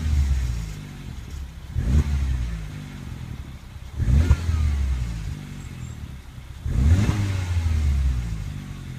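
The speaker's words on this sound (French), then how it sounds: "on entend vachement le moteur. On entend vachement le THP plutôt que la sortie" A Peugeot 308 GTI with the THP turbo engine revs in three strong bursts, each climbing and falling back to a rumbling idle between, close and loud with no voices.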